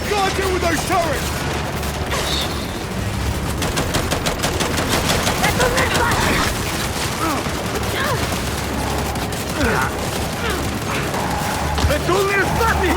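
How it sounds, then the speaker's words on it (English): Rapid turret machine-gun fire rattles in sustained bursts with booms in the Gears 5 video game, mixed with voices and game effects. "We're pinned down! We gotta deal with those turrets!"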